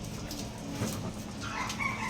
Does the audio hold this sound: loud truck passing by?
no